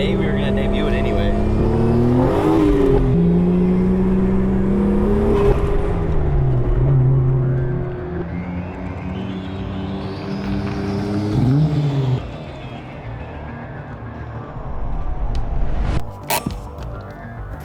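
A new drift car's engine revs and roars up and down over about eighteen seconds, loud and close, with shifting pitch sweeps and a sharp burst near the end.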